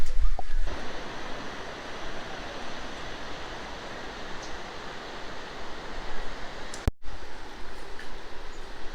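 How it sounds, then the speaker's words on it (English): La Fortuna Waterfall in Costa Rica roars as a steady, broad rush of falling water, close and continuous throughout, with a brief dropout near the end. "Made it to the waterfall."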